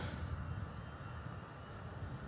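Jet engines of Boeing 767 aircraft, CFM-powered, at Miami Airport, a steady broadband roar with low rumble holding at moderate distance throughout, no talk.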